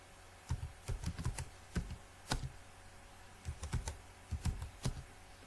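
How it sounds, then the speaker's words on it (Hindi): Typing on a computer keyboard, irregular bursts of crisp key clicks and clacks, close and fairly loud, with short pauses between groups of keystrokes. "जस्ट इस पे क्लिक करें और अपने कीबोर्ड की मदद से लिख लें"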